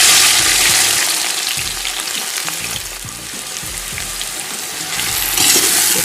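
Onions dropped into hot oil for chicken korma, a loud dense hiss of frying that swells at the start, eases slightly, then surges again, with faint stirring and no talking.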